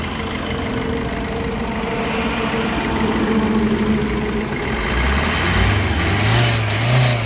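A car engine running with the bonnet open, idling steadily up close, then rising in pitch and loudness as it is revved in the last couple of seconds.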